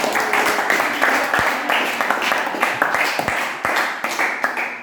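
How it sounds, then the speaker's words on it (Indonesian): A classroom of students breaks into brisk, close group clapping that runs steadily for several seconds with uneven claps and a few voices mixed in. "Tepuk tangan dulu untuk kita semua."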